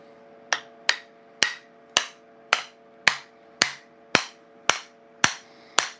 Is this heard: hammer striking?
yes